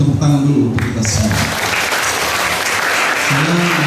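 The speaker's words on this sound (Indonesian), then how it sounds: "Tepuk tangan dulu untuk kita semua." Audience applause at a school book review event, a broad wash of clapping filling the room for a few seconds, with voices heard at the start and end.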